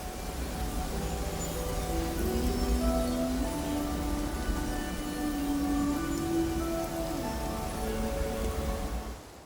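Steady rain falls in Infinity Nikki, a continuous even hiss of drops on surfaces, with soft melodic music running over it.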